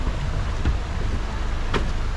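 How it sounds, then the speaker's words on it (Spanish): A dense, continuous rush of river water near the Las Pilas waterfalls in Arambala, Morazán, El Salvador, loud and close, steady throughout with a faint splash or knock near the middle. "Suena el agua, suena."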